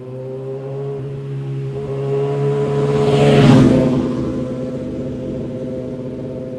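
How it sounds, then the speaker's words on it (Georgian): A car engine at 70 km/h in sixth gear, with the exhaust muffler in focus, gives a steady low droning hum that swells into a louder rushing whoosh midway, then eases back to the even drone. "70-ით მივდივართ მე-6-ეთი არის აი ესეთი ხმა."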